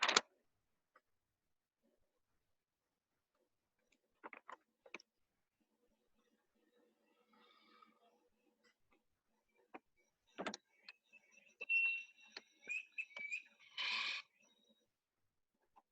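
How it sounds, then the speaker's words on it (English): A played recording of broadbill display-flight vocalizations from Uganda: faint scattered clicks and brief trilling, whirring bursts separated by silence, growing louder toward the end. "you can actually hear the vocalizations from the bird while they're displaying"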